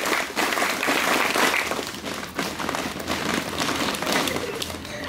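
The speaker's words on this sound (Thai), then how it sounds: "โรงเรียนห้วยเกียงปรบมือ" Pupils at Huai Kiang school clap their hands together in a loud, dense burst of applause that carries on steadily throughout.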